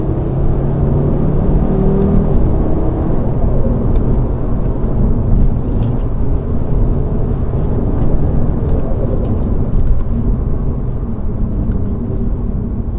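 An Audi RS3 8V fitted with adjustable-height springs drives along a road, heard from inside as a steady engine drone, tyre roar and rumble that holds for the whole stretch, with no one speaking.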